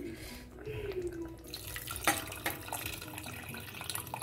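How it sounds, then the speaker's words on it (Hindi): Water is poured into a pressure cooker of paneer in a home kitchen, a soft running trickle and splash at moderate distance amid faint kitchen clatter. "और वैसे मैं इसके अंदर डालूंगी पानी"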